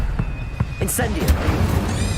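Incendio fire spell cast in the PC game Hogwarts Legacy: a dense, loud burst of crackling, whooshing flame with a sharp bright flare partway through and a thudding hit, over a steady rumbling game background.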